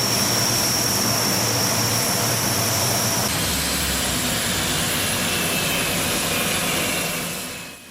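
An Indonesian Air Force Hercules transport aircraft landing at Sultan Iskandar Muda air base, its engines a loud, steady roar with a high whine that shifts partway through, fading slightly at the end.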